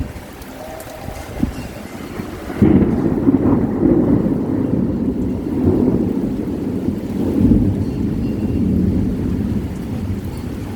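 A severe Kalbaishakhi thunderstorm with strong wind rumbles and roars continuously at close range, with a heavy gust or thunder surge swelling partway through and no talk.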